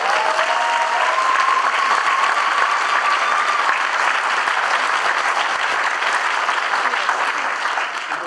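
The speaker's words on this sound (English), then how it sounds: "Can you give them a round of applause?" A crowd at a swearing-in ceremony at LA Harbor College applauds the district and capital staff, steady dense clapping from many hands that holds for about eight seconds, with a faint whistle early on.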